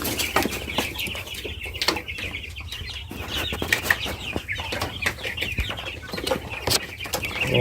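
Quails kept in a cage setup, giving repeated short chirps and clucks with bursts of wing flapping and rustling, close and fairly busy throughout, with no talking.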